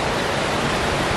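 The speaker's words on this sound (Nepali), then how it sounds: "मोहिनी झरनामा चाहिँ आइपुगिसक्यो होइन। झरना यस्तै छ।" Mohini waterfall pours in a steady, dense roar of rushing water, broadband and unbroken, close by with no voices over it.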